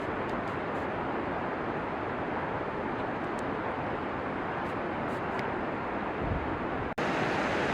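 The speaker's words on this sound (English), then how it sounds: "A magnificent waterfall appears before your eyes." Continuous broadband roar of a large waterfall beside a gravel trail near Berg Lake in the mountains, steady and loud throughout with a brief bump near the end.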